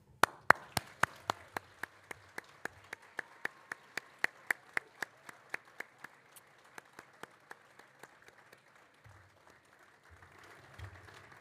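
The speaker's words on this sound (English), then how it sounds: "And now join me in a round of applause." Graduation ceremony audience applauding as graduates stand, with crisp claps standing out early over a wider wash of clapping that gradually thins and fades.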